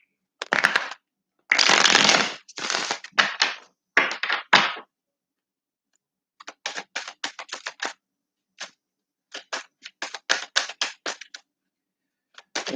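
Osho Zen Tarot cards being shuffled, heard as a run of crisp riffling bursts separated by short pauses and quicker flicks later on, close and with no voices.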